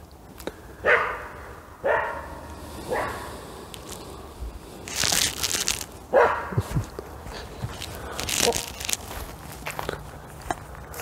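A dog barks in short, separate bursts, a few close together and more a little later, with shuffling and outdoor noise in between.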